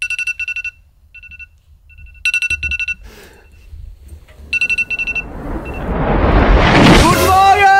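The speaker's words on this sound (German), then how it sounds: "bis der Wecker endlich losging" A wake-up alarm clock beeps in repeated bursts of rapid electronic tones, near and loud, with pauses between the bursts; movement and rising noise build toward the end.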